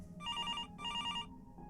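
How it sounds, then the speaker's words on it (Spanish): A house telephone rings in two long electronic bursts separated by a short gap, loud and steady over a low background hum. "comenzó a sonar el teléfono de la casa."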